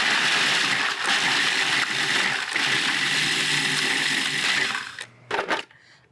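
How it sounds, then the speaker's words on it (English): A food processor grinds vanilla wafers into fine crumbs with a loud, steady whirring and rattling, then cuts off and finishes with a few short pulses and clatters. "you can grind these up in your food processor"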